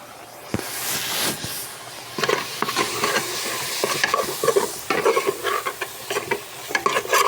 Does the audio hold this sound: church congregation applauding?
no